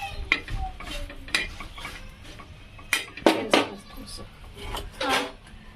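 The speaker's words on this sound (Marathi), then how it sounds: "तव्यावर तेल टाकून अशा लालसर भाजून घ्यायच्या" A spatula scrapes and clinks against a tava in scattered strokes over a faint sizzle of oil as red chillies roast.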